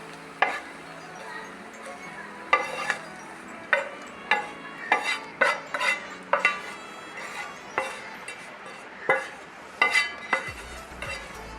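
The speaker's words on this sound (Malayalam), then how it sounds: "നന്നായിട്ട് മിക്സ് ആക്കാം" Spiced masala is mixed into puttu rice flour with a utensil that scrapes and clinks against the vessel in irregular short knocks, fairly quiet, with faint background noise between strikes.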